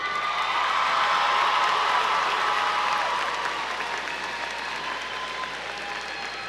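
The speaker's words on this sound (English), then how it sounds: "please stand so we can applaud you" Graduating seniors stand while a large audience at a high school graduation applauds, a broad, steady wash of clapping with light cheering that slowly softens over several seconds.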